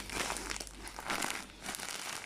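Plastic or paper gift wrapping crinkles and rustles up close as a present is opened, in several bursts of handling over a couple of seconds with no talk.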